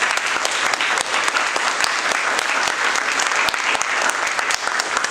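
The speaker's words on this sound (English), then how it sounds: "Let's please give them a round of applause." Audience in a fellowship hall at a Democratic candidates' forum applauds the event organizers, a sustained, dense round of clapping filling the room without pause.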